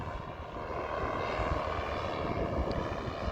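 A paramotor engine, a motor worn on a pilot's back under a parachute and flying roughly 150 to 200 feet overhead above a kayak on saltwater, gives a steady, distant droning hum that holds evenly throughout.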